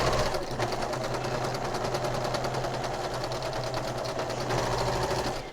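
Close, steady whirring and rapid rhythmic clatter of a sewing machine stitching the lining seam of a mini fabric stocking, running continuously with a slight dip near the start.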